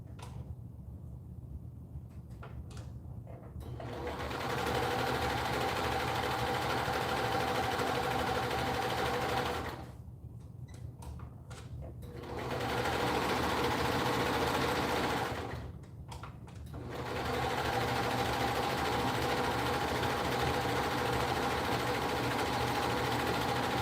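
A sewing machine stitches in long, steady, loud runs, its rapid mechanical whirr stopping briefly twice for short pauses before starting again, with no voices.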